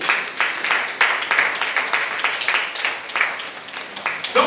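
A church congregation breaks into sustained applause to acclaim the Lord during a day of fasting and prayer, dense clapping swelling and falling steadily throughout, with no one speaking over it.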